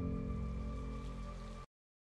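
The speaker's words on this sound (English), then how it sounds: "And it's raining." Rain in the Honkai Star Rail game trailer falls as a steady patter layered with sustained tonal music, then cuts off abruptly.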